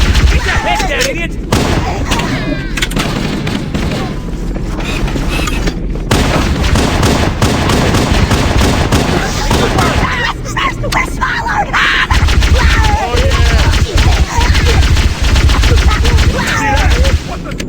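Loud, dense gunfire fills a battle in Halo: Combat Evolved, with rapid automatic bursts, heavy booms and explosions rolling on without pause, while voices shout over the fighting.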